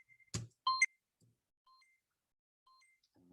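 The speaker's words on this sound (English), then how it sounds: "Make that beep go away." During an online meeting, a few brief electronic beeps and tones sound close and clean over near silence, with short gaps between them.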